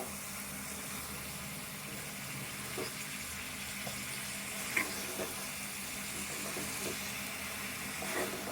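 Ivy gourd and egg curry sizzles softly in a pan while being stirred, a steady low frying hiss with a few faint spoon scrapes and taps, no voices.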